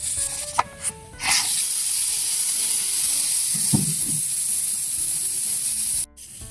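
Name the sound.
pot steaming while boiling pork stew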